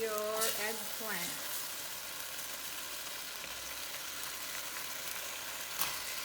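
Eggplant hits a hot wok on high heat with tofu, giving a steady close sizzle and frying hiss with a couple of brief scraping stirs, while a person talks faintly at the start.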